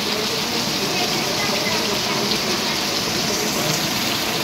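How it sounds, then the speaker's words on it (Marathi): A dense, unbroken roar of heavy monsoon rain in Konkan, loud and near, with a slight gushing, water-rich texture and no breaks. "पाऊस फुल धुवाधार, एकदम धुवाधार बॅटिंग"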